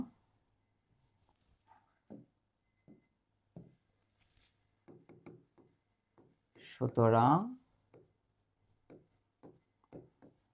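Writing on a board during a calculus lesson on graphs and function domains, with light scratchy strokes coming in short bursts under a teacher's steady talk.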